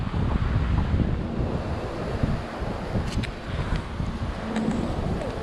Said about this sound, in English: Sorry for the wind, so if you're getting a lot of it, it's a windy day here today.